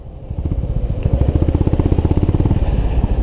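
A Honda CB350RS motorcycle engine runs close by, a rapid rhythmic thumping that grows slightly louder and holds a steady, throbbing pulse.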